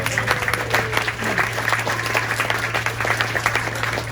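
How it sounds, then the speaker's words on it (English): Spectators at an outdoor fire brigade rescue demonstration give a dense, continuous round of applause over a steady low hum, with little talk. "Another round of applause."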